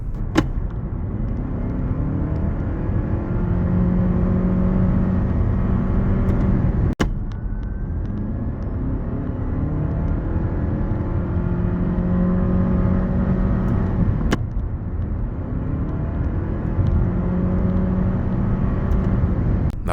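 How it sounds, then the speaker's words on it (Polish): Toyota C-HR GR Sport 2.0 hybrid with a slightly modified CVT, accelerating from inside the cabin: a steady engine drone with faint rising whine tones, continuous and fairly loud, no talking. "Tutaj czuć, że jest lekko zmodyfikowana skrzynia bezstopniowa i to dało efekt mniejszego wycia."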